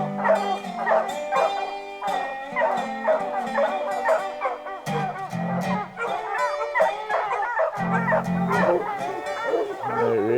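A pack of hunting dogs bark, yip and bay continuously and excitedly at a bear treed high up, many voices overlapping close by with no pauses.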